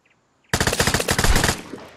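Rapid automatic gunfire in a video game, a sudden loud burst of closely spaced shots lasting about a second before trailing off into echo.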